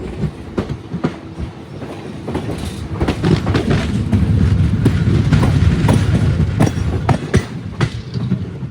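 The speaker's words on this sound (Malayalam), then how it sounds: "മറിയാനി ജംഗ്ഷനിലേക്ക് ട്രെയിൻ എത്തുകയാണ്." Nagaland Express train drawing into Mariani Junction on a single line in Assam, heard from on board: loud rhythmic clickety-clack of wheels over rail joints with rumbling carriages, building to a steady roll and easing at the end.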